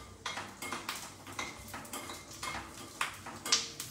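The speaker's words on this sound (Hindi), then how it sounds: "जैसे आप इसको स्टर करते जाएंगे, इसे लो फ्लेम पे ही करना है सो दैट ये जले नहीं" A spoon scraping and clinking around a pan while stirring golden latte over a low flame, a close series of irregular metallic strokes with no talking.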